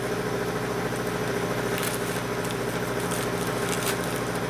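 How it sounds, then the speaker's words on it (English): An air compressor runs steadily in a workshop, a constant loud mechanical drone with a buzzing hum that holds unchanged throughout, with a few faint clicks and knocks on top. "We know the air compressor's on."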